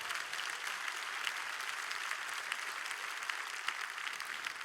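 A congregation applauds Jesus Christ during a Spanish-language sermon on praying in tongues: an even, continuous roll of many hands clapping that holds steady throughout, moderately loud and without speech.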